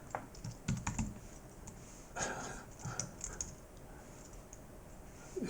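Typing on a computer keyboard, quiet irregular clicks and key taps in short bursts, close by with no talking.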